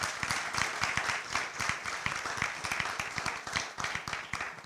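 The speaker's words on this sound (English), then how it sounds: "Applause, yeah." A modest audience at a talk on precarization and resistance in data work claps briefly, with distinct, rhythmic individual claps over a few seconds rather than a roaring ovation.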